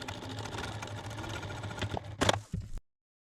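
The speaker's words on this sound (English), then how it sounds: "I'm going to take it over to the sewing machine and stitch a 1/4 inch seam there" A sewing machine hums steadily as it stitches a quarter-inch seam on a fabric potholder, running close and even before a couple of louder clunks and an abrupt stop.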